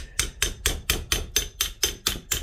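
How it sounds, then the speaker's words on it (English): A hammer strikes a 12 mm socket to knock a valve part out of a Farmall Cub engine. Ten sharp, evenly spaced metallic taps ring out close and loud, with no talking. "Take a socket about the size of the hole, this one here, 12 millimeter, fits in there beautifully, and then you're gonna"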